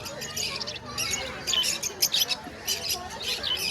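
Budgerigars chirp and squawk in a crowded stall at the Naihati bird market, with dense high-pitched calls under a vendor's voice and market chatter.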